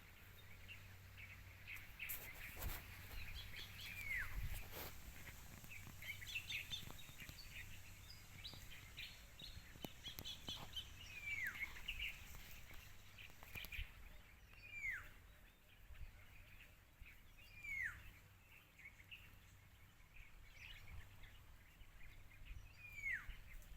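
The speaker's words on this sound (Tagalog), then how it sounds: "Narinig mo yung mga huli ng ibon." Birds chirp and call around a goat pasture, repeated short whistled notes at a moderate distance over a quiet outdoor background, with no talking.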